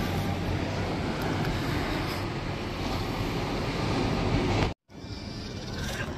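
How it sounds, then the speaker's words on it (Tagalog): Sea waves surging onto the shore, a continuous broad roar with wind noise, loud and close, cutting out abruptly near the end before resuming. "the very sound, the very image na makita mo lang yung dagat na humahampas ng ganyan"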